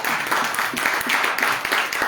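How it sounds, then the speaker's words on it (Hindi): Loud, dense applause from a church congregation during a Hindi-language sermon, steady clapping filling the whole stretch with no voices over it. "जोरदार तालियां दे"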